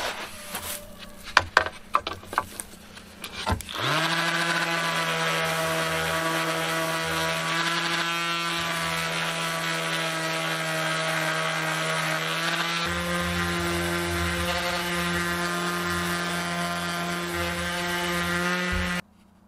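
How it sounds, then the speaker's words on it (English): An electric power sander runs outdoors on a piece of wooden trim cut from a scrap 2x4, a steady loud motor whine with strong harmonics, starting abruptly after a few sharp knocks and holding continuously until it cuts off at the end. "Now I'm gonna sand down this piece."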